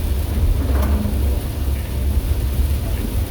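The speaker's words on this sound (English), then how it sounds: "There's no reason to drive that slow in this rain." Steady dense wash of heavy rain drumming on a car while driving, loud and constant with a low road rumble underneath.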